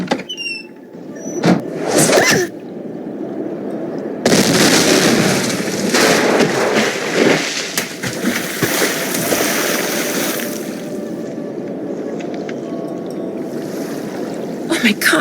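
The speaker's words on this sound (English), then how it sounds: "whoever threw that ice ball at me must have set off an explosion that shattered the ice" A loud explosion shattering ice on a frozen creek in the Nancy Drew game The White Wolf of Icicle Creek, with sharp crackling bursts followed by a long rumbling wash of breaking ice and debris.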